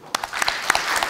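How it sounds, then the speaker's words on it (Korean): A church congregation claps during a Sunday service after new members are announced, starting with a few distinct sharp claps that quickly swell into full, close applause. "아멘. 박수."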